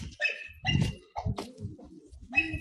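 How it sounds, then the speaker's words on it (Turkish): A dog barks and yelps in several short bursts, fairly close, with whimpering tones between the barks. "Burada bir köpek var aslında korkuttu beni."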